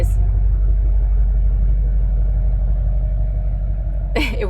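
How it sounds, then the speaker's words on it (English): A loud truck engine rumbles close by at a roadside stop, a steady low drone that holds throughout and eases slightly near the end, where a brief sharp noise cuts in. "It was a very loud truck."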